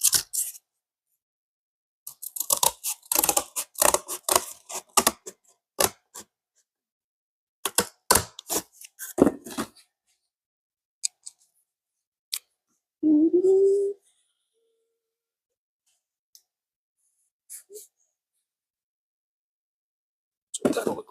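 Cardboard cut by hand while making a step notch, giving bursts of sharp close snipping and crunching clicks separated by silences, with one short low voice-like sound in between.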